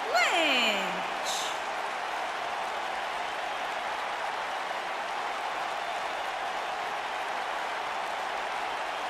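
A wrestling arena crowd roars for Becky Lynch, a rising swell that opens with a short whistle-like sweep and then settles into a broad, steady, distant cheer lasting several seconds.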